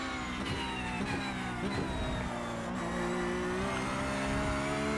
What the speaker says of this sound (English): I just love the sound of that flat 6 engine, the 4-liter Porsche